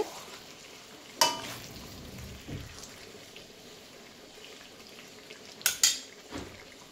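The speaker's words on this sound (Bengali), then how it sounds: "ভালো করে নাড়াচাড়া করে নিচ্ছি।" Chicken curry with potatoes is stirred in a pan, a soft low sizzle under a few sharp metallic clinks and scrapes of a spoon against the pot, spaced irregularly.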